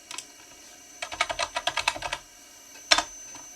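Quick bursts of computer keyboard typing, about a dozen close, crisp keystrokes in a fast run, then one sharper key tap after a short pause, with no voices.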